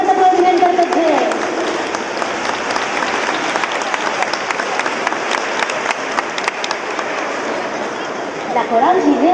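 Loud, sustained applause from an audience for a children's school choir at a youth choir gathering, steady dense clapping throughout with crowd noise and a few voices in the background.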